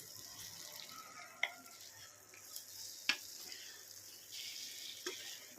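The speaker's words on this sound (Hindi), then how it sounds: "कच्चू डला गया है, थोड़ा सा इसको भून भी लिए हैं।" Taro root (arbi) frying in a pan on a home stove, a faint steady sizzle with a few soft scraping clinks of a stirring utensil.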